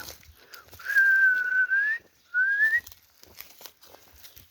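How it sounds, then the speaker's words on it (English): A person whistles two sustained, slightly wavering notes, a long one followed by a shorter rising one after a brief pause, clear and close against quiet background. "I can barely whistle"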